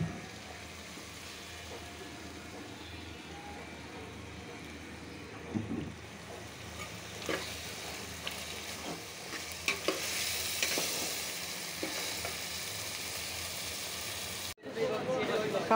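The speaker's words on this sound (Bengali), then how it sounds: "আলু দিয়ে ঝোল করে মাছটা কষায় নিলাম" Fish with potatoes sizzles steadily in a pan, a soft constant frying hiss with occasional stirring scrapes and clatters, and faint talk and a brief cut near the end.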